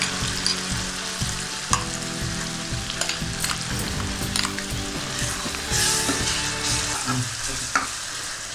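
Ground spice paste frying in hot oil, a loud continuous sizzle with repeated scraping stir strokes against the pan in a steady rhythm.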